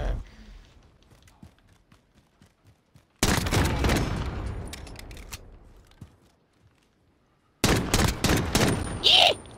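Gunfire in the Modern Warfare Warzone video game: sharp loud bursts of shots in two clusters separated by quiet stretches of faint clicks and footsteps, close and abrupt.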